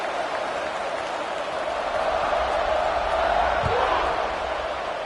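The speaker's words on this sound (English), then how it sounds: "this crowd now ready to get behind them" A football stadium crowd at a college game between SMU and Pittsburgh roars steadily just before kickoff. The broad wash of noise holds loud and continuous throughout, swelling slightly toward the end.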